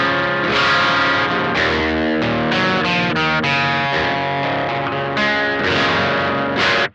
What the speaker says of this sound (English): flip the toggle to the up position and turn the gain all the way down, and we'll hear the gain range through the distortion mode